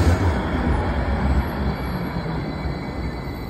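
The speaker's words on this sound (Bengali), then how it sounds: "ট্রেনটাও চলে আসছে" A small train arrives at Hoboken station in New Jersey with a low, heavy rumble and rolling wheel noise. It is close and steady and gradually eases, with no talking.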